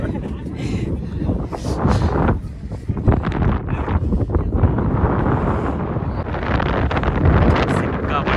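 Strong, gusty wind buffets the microphone with a constant low roar on a foggy hilltop at Shivagange Hills, with a voice talking briefly through the blustery noise.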